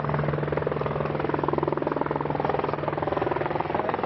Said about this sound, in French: Un hélicoptère de la gendarmerie approche du fort de Rosny-sous-Bois.